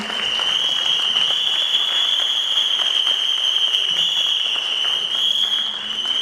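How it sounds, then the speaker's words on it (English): Sustained applause from an audience at the TRRAIN Retail Awards ceremony, a steady wash of clapping at even loudness throughout, with a constant high tone running underneath. "let's have a huge round of applause for TRRAIN"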